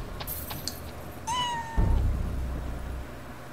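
A cat meows once in the InuYasha: Secret of the Cursed Mask game, a clear drawn-out mew close up, followed by a low rumbling thud and background game ambience.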